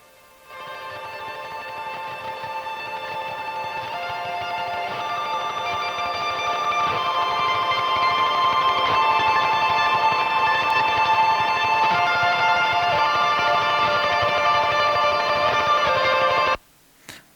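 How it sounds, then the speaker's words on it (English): An ambient guitar patch on a Quad Cortex rings out as fast picking on single notes blurs into a shimmering, swelling wash, growing louder over about sixteen seconds before stopping abruptly, with no voices. "I made a really ambient patch and then I just like picked really fast on some single notes."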